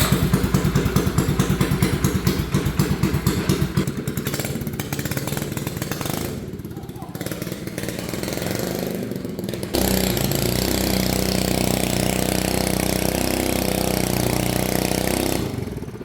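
A homemade mini bike's small engine revs loud and near, a buzzing rasp that rises and falls as it is ridden, with a brief dip in the middle before the rough engine note returns strong and steady.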